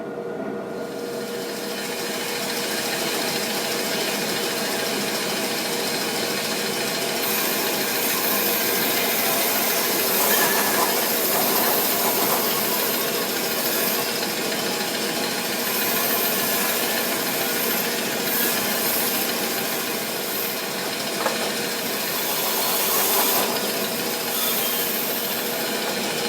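A Shopsmith bandsaw cuts the corners off a wooden spindle blank, roughing it toward an octagon for lathe work: a steady, loud, close whine and rasp of the blade running continuously for the whole stretch, with no voices.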